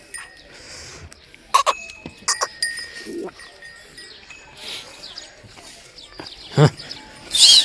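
Several goats bleat intermittently, some near and some farther off, with brief gaps of quiet outdoor ambience and light background noise between calls.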